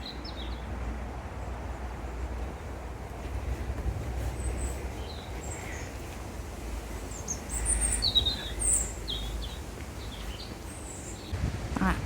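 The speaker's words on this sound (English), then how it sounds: "Letting you enjoy the sound of the birds." Faint, high bird chirps and short song phrases scattered over a low outdoor rumble at One Tree Hill, London, distant and intermittent.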